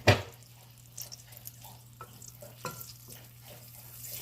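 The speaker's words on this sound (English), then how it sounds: "Stir it all together." A spoon stirs an ice cream base of corn and saffron in a bowl, soft scraping and clinking strokes repeating at an irregular pace, close and quiet over a low steady hum, with no one speaking.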